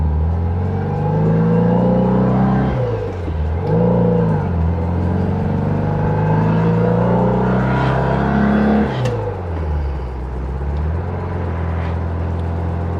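A VW-based Porsche 356 Speedster kit car drives along with a droning engine that rises and falls through gear changes, a supercharger-like whine riding above it, loud and close throughout.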